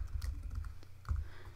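Computer keyboard being typed on, a short quick run of soft, close key clicks over a low background hum.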